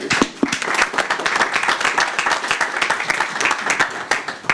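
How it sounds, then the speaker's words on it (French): Lively round of applause from an audience at a startup pitch session, many hands clapping close and loud with distinct individual claps standing out in a dense, uneven rhythm from start to finish. "on peut les applaudir"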